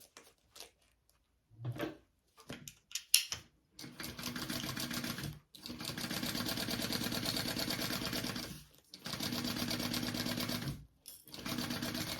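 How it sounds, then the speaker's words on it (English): A sewing machine stitches a seam on a tote bag handle piece, running in several sustained bursts separated by short pauses, with light handling clicks before the first run; close and steady, no talking. "we're going to be sewing that together at our full seam allowance."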